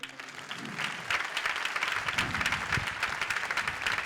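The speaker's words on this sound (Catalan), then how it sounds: "Crec que per això, Pere, et mereixes un aplaudiment" An outdoor audience at the Ball de Diables de Vilafranca festival breaks into applause, softer at first and then swelling into dense, steady clapping from many hands that carries on to the end.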